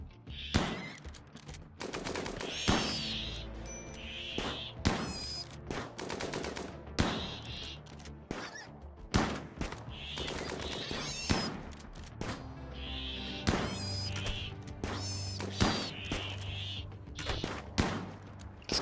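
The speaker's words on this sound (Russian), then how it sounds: "Вау, вот это уровень стрельбы" Heavy gunfire during a large raid in the video game Rimworld: repeated sharp bursts of shots and rapid volleys, loud and clustered, with brief pauses between salvos.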